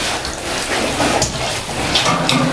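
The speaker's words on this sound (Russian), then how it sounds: "Видите, воду лью, сразу ложится." Water splashing steadily onto the concrete floor of a pig pen, a continuous broad wash of pouring and spattering, close and fairly loud throughout.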